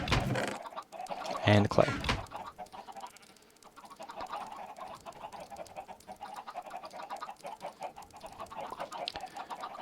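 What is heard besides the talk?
chickens clucking in a video game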